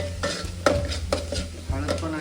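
Turmeric stirred and dry-roasted in a pan for Kolhapuri tambda rassa, a spoon scraping in several distinct strokes over a faint steady sizzle, close and clear with no talking.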